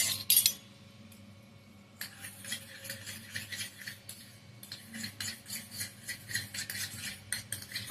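A spoon scrapes and clinks in a bowl while mayonnaise and tomato sauce are stirred together for a homemade veg sandwich, giving soft, close, rhythmic scraping with a sharper clatter at the start.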